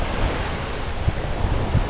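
Sea waves wash onto the beach at Bang Rak on Samui with a steady roar of surf, mixed with wind buffeting the microphone and a couple of low thumps.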